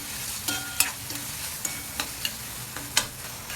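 Curry leaves crackle in hot oil with tomatoes for a gram and moth bean usal, a close, steady sizzle punctuated by sharp spitting pops at irregular intervals, with no one talking.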